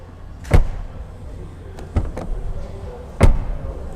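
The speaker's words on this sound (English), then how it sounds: "If you listen to the front door, the way it opens, it sounds like a real Porsche." The front door of a 2024 Porsche Panamera opening, with three distinct sharp mechanical clunks spaced a second or more apart, each with a brief metallic ring over quiet background.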